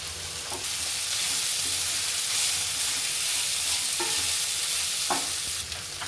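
Poha is stirred into a gravy in a pan on the stove, giving a steady sizzling hiss with soft scraping stirs and occasional clinks of the spoon against the pan, without talk.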